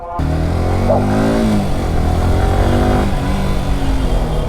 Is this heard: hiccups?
no